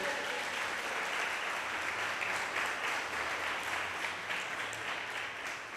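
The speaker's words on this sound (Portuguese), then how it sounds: "Diz amém e dá um aplauso ao Senhor Jesus." A church congregation claps steadily and loudly throughout, a dense, even wash of applause with no voices above it.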